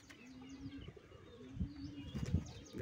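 Pigeons kept at a home loft stir and leave, with soft wing flaps and a few low thumps that grow louder toward the end, over light chirps and coos.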